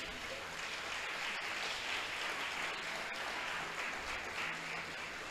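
A church congregation applauds, a broad even wash of clapping that holds steady at moderate level without clear breaks or voices on top.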